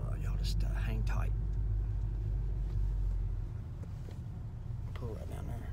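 Car being parked at a dealership lot, a low steady engine rumble that drops off partway as it is shut down, with faint whispered talk over it.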